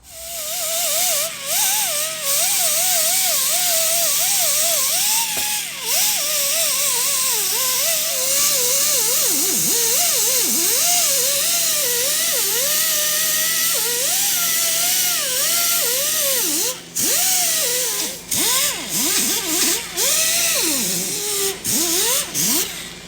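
A disc grinder cleans aluminum parts from a Grand Cherokee SRT 6.4L engine, its loud whine wavering up and down in pitch as pressure changes, with brief breaks near the end.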